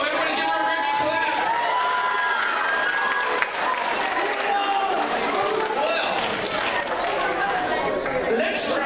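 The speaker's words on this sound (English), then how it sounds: "Everybody give her a big round of applause." An audience at a middle school show applauds a performer, with continuous loud clapping and cheering mixed with crowd chatter and a voice talking over it.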